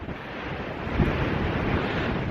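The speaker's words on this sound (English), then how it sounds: "So it's very windy, so you might not be able to hear me very well." Strong wind gusting on the Kent coast near Upper Stoke, loud buffeting roar across the microphone with a surf-like wash, steady throughout and no talking.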